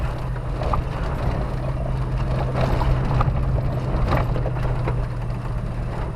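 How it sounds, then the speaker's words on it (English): Jeep Wrangler V8 6-liter engine holding back the vehicle under compression braking, a steady low droning hum with a constant tone, loud and continuous with light rumbling wind and road noise and no talk. "Right now the compression braking on the engine is about exactly what I want speed-wise"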